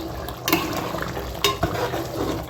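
Chicken curry with ghee stirred in a pan, a soft scraping and sizzling stir with a couple of louder spoon knocks against the pan.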